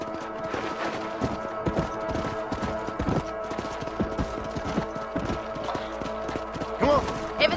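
Horses gallop in Red Dead Redemption on Xbox 360, their hooves drumming in rapid, continuous clip-clop over a steady ground rumble, close and prominent throughout.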